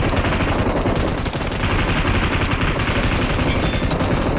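Gunfire in the mobile battle royale game BGMI, a dense loud stream of rapid automatic shots with no break.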